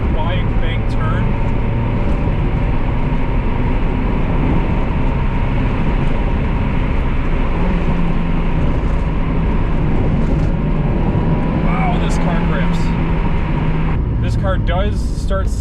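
A 1999 Mazda MX-5 Miata's engine holds a steady, loud drone throughout while driving through curves, with a rise in pitch near the end as it revs.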